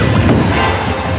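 In Super Smash Bros. Wii U, Pikachu's attack smashes Villager's tree, a loud crashing burst that fills the whole brief moment with dense, rumbling impact noise.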